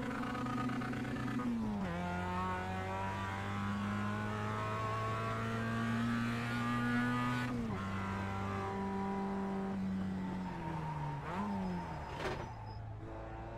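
A Mazda MX-5 race car in iRacing, its engine droning steadily at close range with a buzzy, harmonic-rich tone that dips at gear changes and climbs again through each pull.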